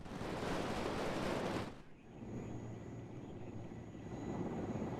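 An Mi-24K helicopter in the combat video game WARNO gives a loud rushing engine and rotor roar that drops away abruptly, leaving a lower rumble and steady hum.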